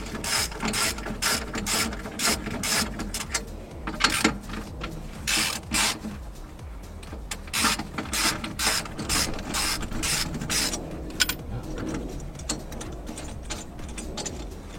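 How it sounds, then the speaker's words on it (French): Hand tools work on the exhaust intermediate pipe of a Peugeot 206, with rapid ratchet clicking in repeated bursts, close up, and metallic knocks between them. "là je viens de procéder à la dépose du silencieux arrière et là maintenant je vais enlever la ligne"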